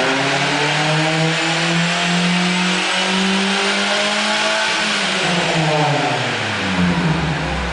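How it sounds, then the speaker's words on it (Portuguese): A supercharged Chevrolet Astra GSI engine revs steadily higher, climbing to the rev limiter, then drops back down; loud and close with no talking. "Eu acelerei o motor"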